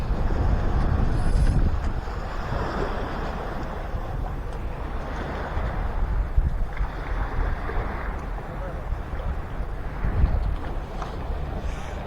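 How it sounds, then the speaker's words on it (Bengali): River waves near a ferry crossing where vehicles wait to board a vessel for the Gangasagar Mela, heard as a continuous rough wash of water with strong wind rumbling against the microphone. "তো এই হচ্ছে জলের আওয়াজ।"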